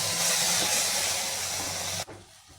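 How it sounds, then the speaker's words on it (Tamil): Tomatoes sauteing in hot oil for black urad dal chutney make a loud, dense, hissing sizzle up close that cuts off abruptly near the end, leaving a quieter background, with no speech. "தக்காளி வதங்கிட்டு இருக்குங்க."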